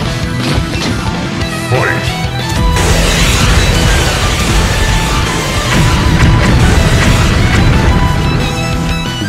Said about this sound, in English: Target locked. Missile barrage incoming.